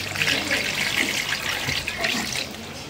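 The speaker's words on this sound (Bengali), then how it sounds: "এখন আমি পানি দিয়ে দিলাম।" Water pours steadily into a pan of Bengali fish curry (bele fish chorchori), a continuous close splashing rush with no talking.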